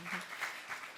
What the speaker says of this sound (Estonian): Aplaus Toomasele